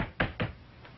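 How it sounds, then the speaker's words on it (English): Two quick knuckle knocks on wood, soft and close, with a fainter third tap trailing after. "Knock on wood."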